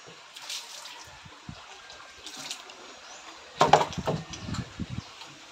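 Water splashes and trickles into a container in a short burst after a quiet stretch, with a few soft knocks and splashes following.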